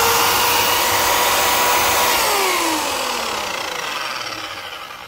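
A Parkside PZKS 2000 miter saw's 2000 W, 4700 rpm motor whines at high speed, its pitch sliding downward as it spins down, loud and close with no talking.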